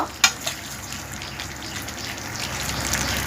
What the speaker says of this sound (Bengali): এটা লো ফ্লেমে ফুটতে দিতে হবে পটলগুলো তারপর সেদ্ধ হোক